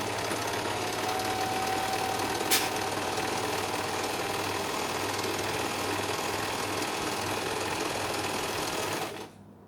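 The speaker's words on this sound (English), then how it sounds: "So we start with a couple of reverse stitches and then continue all the way round and sew." A sewing machine stitches fabric, first a few reverse stitches and then on around the seam, running as a fast, continuous close-up whir that stops abruptly near the end, with no talking.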